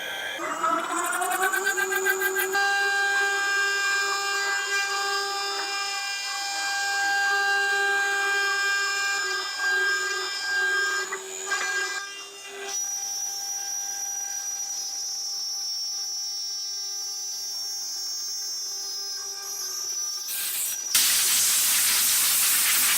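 A CNC machine tool pilot-drills holes and cuts the profile of a custom metal bracket for an R33 Skyline. It produces a loud, sustained tonal whine with shifting pitch, ending in a brief burst of broadband hiss.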